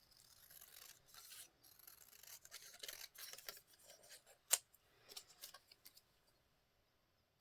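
Scissors snip and rasp through paper for a junk journal, close and fairly quiet, a run of uneven cuts with one sharper snap near the middle before it fades to silence.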